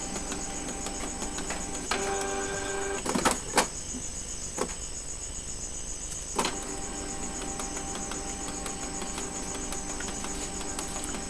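A Canon G2010 inkjet printer with a P07 error runs a cleaning cycle: steady mechanical whirring and a high electronic whine, broken by a few sharp clicks and clunks of the internal mechanism, with no talking.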